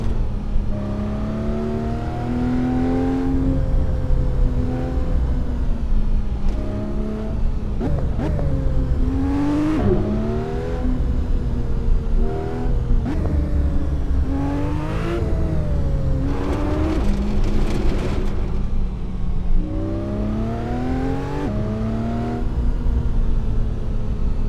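A rally car engine in Assetto Corsa on the Peyregrosse-Mandagout stage in France, revving up and down through repeated gear changes, loud and close, with constant rising and falling whine and no talk.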